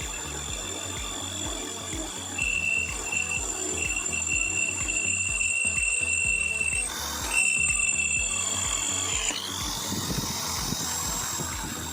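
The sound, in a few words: power drill boring with Nachi 5.5 mm drill bit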